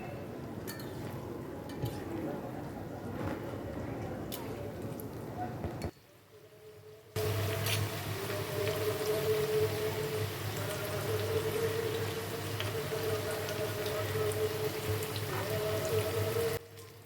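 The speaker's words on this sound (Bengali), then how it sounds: "একটুখানি লাল করে ভেজে নিতে হবে বড়াগুলো" Grated mankochu (giant taro) fritters frying in hot oil, a steady hiss and crackle that drops out briefly midway, then returns louder and continuous with faint voices underneath.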